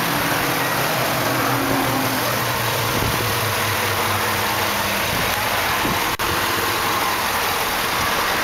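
A 2008 Chevrolet Tahoe LTZ's 5.3-liter Vortec V8 idles steadily with the hood open, a loud, even, low rumble that stays constant throughout without speech.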